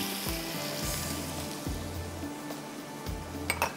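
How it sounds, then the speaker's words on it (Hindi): Onion and garlic fry in a pan for palak paneer, giving a steady, close sizzle with a few soft utensil scrapes and clinks near the end; no one speaks. "थोड़ा मैं इसको यहाँ पर करती हूँ अच्छी तरह से फ्राई।"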